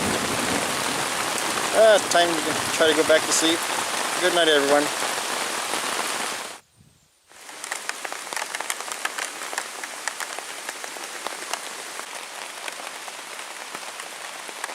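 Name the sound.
heavy rain during thunderstorm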